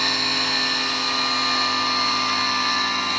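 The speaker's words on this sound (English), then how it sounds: "It is disconnected because of the moment of the rotor. It will keep spinning for a while, of course." A pulse motor's rotor keeps spinning on its base after being disconnected, a steady, close, high mechanical whine with a buzzing edge that holds an even pitch throughout, with no talking.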